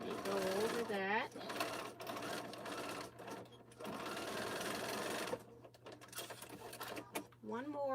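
A sewing machine stitches box seams on a fabric bag, running in steady close whirring bursts with short pauses and a constant low hum, while someone talks over parts of it.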